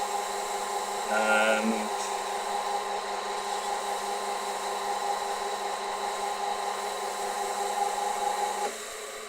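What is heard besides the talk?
buffing out wax on a wooden box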